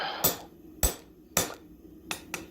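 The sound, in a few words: blacksmith hammer driving a punch through hot steel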